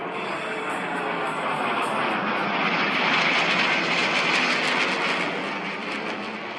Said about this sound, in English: This is the stealth bomber flying over.